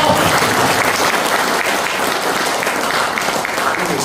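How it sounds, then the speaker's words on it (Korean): A large audience at a lecture on moving the Ministry of Oceans and Fisheries to Busan claps loudly and steadily, a dense wash of applause filling the whole stretch. "다시 한 번 더 오늘의 청년강사님을 여러분들 힘찬 박수 맞아주시면 고맙겠습니다"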